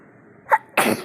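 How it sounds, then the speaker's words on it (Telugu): Two quick sneezes close by, a short sharp one followed by a bigger, fuller burst. "తుమ్ముల మీద తుమ్ములు అలా అయిపోయింది"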